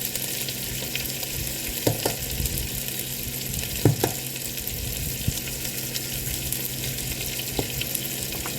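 Tomatoes fry with salt in a pan under a steady, fairly loud sizzle, with a few stirring knocks of the utensil against the pan.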